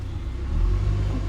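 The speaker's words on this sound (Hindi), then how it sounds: "कार हम पार्क करने आए हैं यहाँ पे" Car engine running at low speed while parking near home, a steady close rumble that swells slightly partway through, with no talking.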